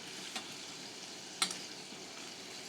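A titanium mini spatula turns rice in a pan over a low, steady sizzle, with two brief scrapes of metal against the pan, the second louder and sharper.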